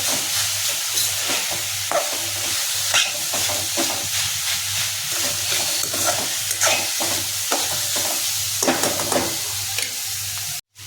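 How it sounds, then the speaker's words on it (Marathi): Mulyachi (radish) chutney is stirred in a pan over steady frying sizzle, with repeated scrapes and light clatter of the spoon against the metal, close and continuous until an abrupt stop. "चांगलं मिक्स करून घ्यायचं"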